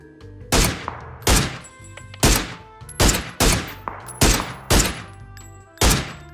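Eight sharp gunshots in PUBG crack at irregular intervals, each with a short booming tail, with no talking.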